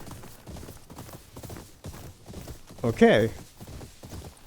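Horse hooves clip-clopping at a steady trot while riding in Ghost of Yōtei, close and even, with a brief whinny midway. Someone talks over the hoofbeats.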